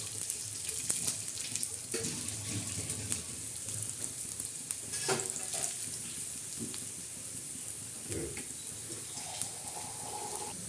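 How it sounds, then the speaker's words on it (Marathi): Coriander seeds roast in a pan while being stirred, making a steady, dense sizzling hiss with scattered light scraping ticks throughout, close and continuous. "असे धने चांगले लालसर होऊन जायचे लालसर लालसर तोपर्यंत चांगला असं मस्त हलवत राहायचं"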